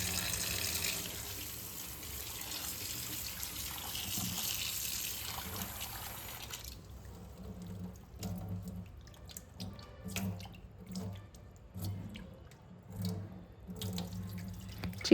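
Raw chicken rinsed under a running kitchen tap, a close steady gush of water that gives way to irregular splashes and drips as the pieces are handled, with no voices.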